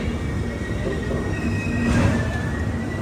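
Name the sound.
Vivek Express train arriving at Bhubaneswar railway station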